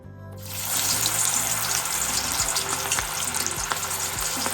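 Garlic dropped into hot oil for chicken chilli, a sudden loud burst of sizzling that settles into a steady crackle, with a few light knocks of a utensil against the pan and no voices.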